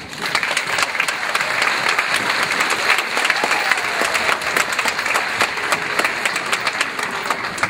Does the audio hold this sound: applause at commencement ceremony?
yes